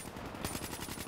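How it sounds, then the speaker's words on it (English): Gunfire in the video game Black Ops 3 strikes the player from behind, a rapid burst of loud, rhythmic automatic shots over busy game noise, with no talking. "Oh, I'm being shot in the back."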